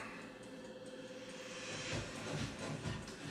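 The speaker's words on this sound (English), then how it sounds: "We'll throw our sausage in here." Sausage is added to a hot pan with cheese-topped fusilli, spinach and ricotta, giving a broad hissing sizzle that swells and holds steady without talk.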